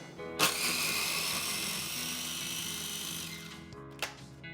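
A spice grinder blitzes a paste of garlic, chili flakes, salt and turmeric, a steady loud motor whine running almost the whole time, ending with a short pause and one brief final burst.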